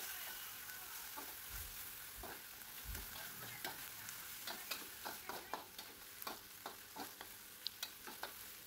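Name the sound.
cooking rice with anchovies in a pot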